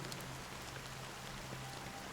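Rain falls steadily in the video game Honkai: Star Rail, a faint, even wash of dense drops with no other sounds on top.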